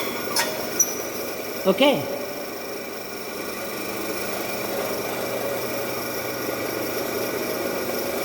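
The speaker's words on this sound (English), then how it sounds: "now I am applying brake" A 3-phase induction motor hums steadily under a brake test, a continuous mechanical drone with a brief squeal-like sweep early on, while a person speaks briefly over it.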